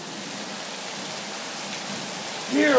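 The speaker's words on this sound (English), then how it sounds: "But it's raining cats and dogs and there's hail." Heavy rain mixed with hail during an April storm in Indiana, a steady dense hiss of pouring rain and pelting ice that holds constant, with a faint brief tonal sound near the end.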